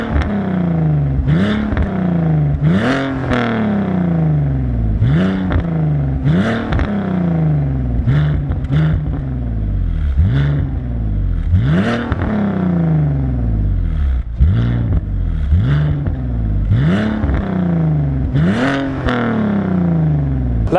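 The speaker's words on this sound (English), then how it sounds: "If you get it right, it does crackle and pop, but it doesn't do it all the time." A BMW Z4 E85 with a box-delete modification revs repeatedly, its engine climbing and falling in a steady cycle of throttle blips with sharp exhaust crackles and pops at the top of each rev, loud and close.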